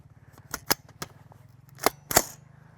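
A 9mm Palmetto State Armory AR-V9 blowback rifle with a SIG Romeo 5 sight fires 124-grain FMJ rounds, producing five sharp, irregularly spaced reports, two close together, over a faint rhythmic background ticking.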